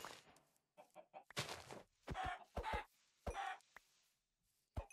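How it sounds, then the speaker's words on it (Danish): Chickens clucking in the Minecraft video game, several short, sharp, close clucks in an uneven rhythm with silent gaps between, no talk. "Nej, kyllinger."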